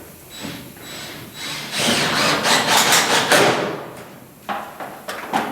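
A screw is driven by power tool into a roofing panel on an 8x14 chicken coop, a loud whirring burst lasting a couple of seconds, then quieter scraping and handling noises.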